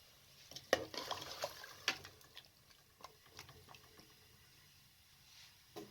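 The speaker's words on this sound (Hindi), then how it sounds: "तमाम चीज़ों को अच्छे तरीके से मिक्स करके कवर कर दें।" A spoon scrapes and clinks against a pot of potato and turnip curry in irregular strokes, fairly quiet and up close, with no talking.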